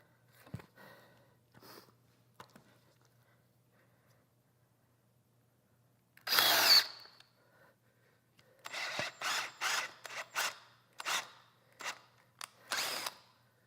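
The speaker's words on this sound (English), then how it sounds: "But the angle's a lot easier to drill this way" Several short bursts of a power drill biting into a wooden stick chair seat, one long run followed by a series of quick pulses, close and loud with quiet pauses between.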